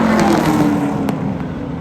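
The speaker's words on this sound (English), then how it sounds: "Down the back straight with the 29 of Pepper trying to bring the high side of the racetrack" Stock cars race down the back straight of Sunset Speedway, a dense continuous engine roar heard from the stands, loud and steady with a few brief peaks.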